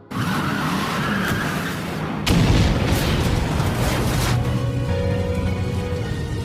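A car crashes into a laboratory and explodes, giving a loud, close impact and blast that leaves a lingering rumble and crackle, with skidding and a tire squeal beforehand.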